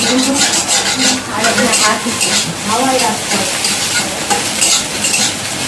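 An egg frying in a pan, a dense, loud continuous sizzle with rhythmic stirring strokes, while a voice talks faintly underneath.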